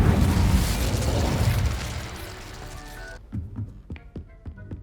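Incendio fire spell cast in Hogwarts Legacy, a loud roaring burst of flame that rumbles for about three seconds, then cuts off into a string of short sharp pops and taps.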